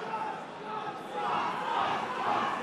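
Crowd at an Almighty Fighting Championship bout cheering and shouting in support of fighter Scott Brown, a dense roar that swells louder halfway through, close and continuous with no clear single voice.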